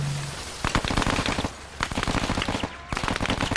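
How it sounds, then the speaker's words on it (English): Arma 3 combat: rapid automatic gunfire in sharp bursts, some shots crackling near and others echoing from farther off, with short gaps between volleys. "He's honestly just firing at these houses trying to hit me"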